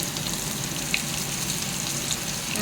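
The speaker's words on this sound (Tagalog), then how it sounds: "Prituhin po natin." Food fries in a pan with a constant, close sizzling hiss for a few seconds, alone and without talk.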